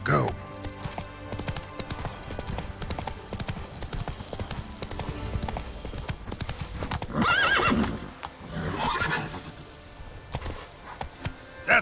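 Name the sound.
horse Roach neighing and galloping in video game The Witcher 3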